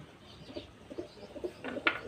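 Soft pigeon cooing, a few low murmured coos spread across the clip, fairly faint with quiet background noise.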